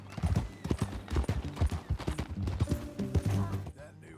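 Horse hooves clip-clop at a steady trotting rhythm in Red Dead Redemption 2, close and clear, with a brief snort or whinny mixed in near the end.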